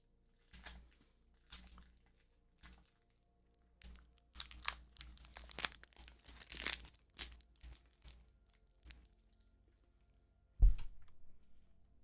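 Candy wrapper crinkling and crunching in scattered bursts, close and fairly quiet, with a louder crackle near the end and no talking.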